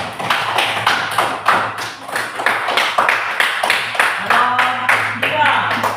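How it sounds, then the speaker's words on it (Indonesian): A classroom of students claps in rhythmic, unified bursts, a dense and close run of hand claps held at a steady loud level. Some voices call out partway through. "Oke, tepuk tangan."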